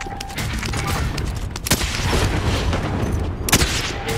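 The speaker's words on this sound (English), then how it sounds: "Allied cluster strike arriving." Explosions and gunfire from an allied cluster strike in Call of Duty: Modern Warfare, a continuous rumbling barrage with sharp louder blasts standing out near the middle and end, no talking.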